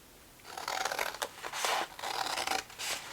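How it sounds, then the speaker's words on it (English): Scissors cut through paper rectangles for a handmade mini scrapbook photo album, several close, steady crisp snipping strokes in quick bursts with brief pauses, and no voices. "I'm going to cut those out right on the line."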